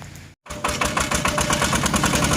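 A second-hand walk-behind farm tractor engine runs close by with a steady, rapid chugging knock, starting right after a brief silent gap and holding level to the end.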